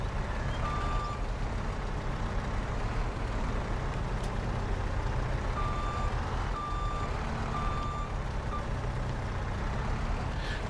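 Reversing beeps from a trailer truck in Farming Simulator on the Fairhead map, a steady intermittent tone repeating over a constant engine rumble, with no talk.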